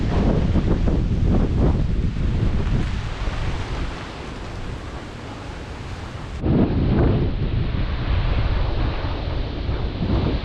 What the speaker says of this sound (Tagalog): Bale lakas po ng bugso ng hangin oh.